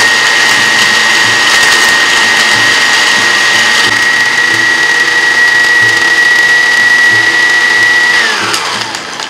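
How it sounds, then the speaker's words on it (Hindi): An electric grinder pulverizes roasted nihari masala spices, a loud, steady high-pitched motor whine with rattling grit that holds for several seconds, then drops in pitch as the motor winds down at the end. "निहारी मसाले के सारे इंग्रेडिएंट्स को मैं ग्राइंडर में डाल के अच्छी तरह से पीस लूंगी।"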